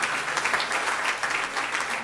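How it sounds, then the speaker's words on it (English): A church congregation claps continuously in praise, a dense steady patter of many hands applauding at moderate volume. "Give God a hand clap of praise."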